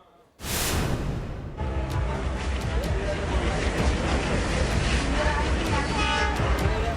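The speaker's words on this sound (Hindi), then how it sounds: "यह है मुंबई की लाइफलाइन लोकल ट्रेन।" A Mumbai local train rumbles loudly and continuously along the tracks with dense, roaring noise, repeated rhythmic clacks and crowd chatter mixed in.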